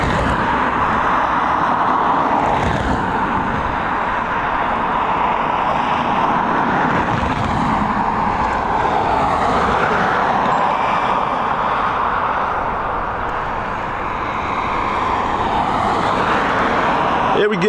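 An Iberia Express Airbus A320 moving at Dublin Airport by runway 28R, a loud continuous jet engine roar with broadband rumble that stays steady throughout, with no voices over it.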